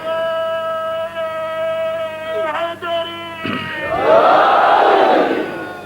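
A crowd at a religious majlis gathering bursts into a loud chanted slogan, a broad rising roar of many voices that follows a held sung note and swells to fill the space.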